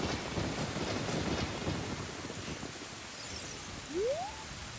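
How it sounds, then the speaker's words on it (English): Heavy rain pours down in a dense, steady hiss in The Legend of Zelda: Ocarina of Time, with a faint rising tone near the end. "quite a downpour going on here."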